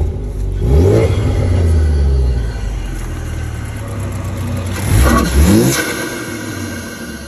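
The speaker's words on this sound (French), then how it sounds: "On entend le turbo qui redescend, c'est sympa." Car engine revving hard twice, a close, loud rising roar each time that drops back to a low idle rumble with the whir of a turbo spooling down, steady background hum throughout and no talk.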